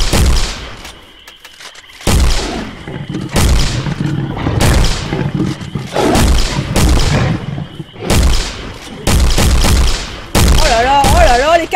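Repeated bursts of loud, booming gunfire in the Bigfoot hunting game, fired in separate volleys in a forest with short gaps between them, mixed with voices talking.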